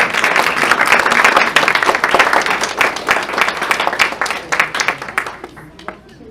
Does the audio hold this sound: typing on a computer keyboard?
no